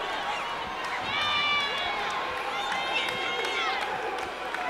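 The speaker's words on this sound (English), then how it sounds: "And that got the crowd going." Crowd cheering at a boys high school basketball game, Dothan against Enterprise, a sustained roar of voices and shouts swelling under continuous play-by-play commentary with sneaker squeaks.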